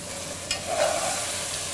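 Onion, garlic and meat sizzle in an oiled pan while being stirred, a brief soft frying hiss with a light scrape partway through.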